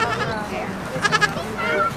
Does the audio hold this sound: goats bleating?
yes